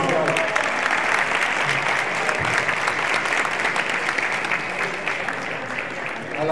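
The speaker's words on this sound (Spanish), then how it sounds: "Un aplauso especial." Warm applause from an audience at an awards ceremony, many people clapping in a thick, continuous wash that holds steady throughout and fades slightly near the end.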